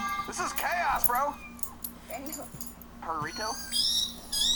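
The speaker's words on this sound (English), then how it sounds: "That is a cat wrapped up like a burrito." A cat wrapped up tightly like a burrito meows repeatedly in drawn-out, wavering cries, some rising into a yowl, close and fairly loud, with occasional voices around it.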